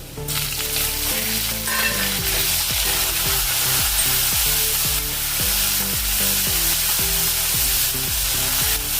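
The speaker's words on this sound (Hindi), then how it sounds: "इसको भी 2 मिनट भुनेंगे। 2 मिनट हमने टमाटर को भून लिया है।" Onions and then tomatoes frying in a pan over a large gas burner, giving a steady, continuous sizzle that sits under background music throughout.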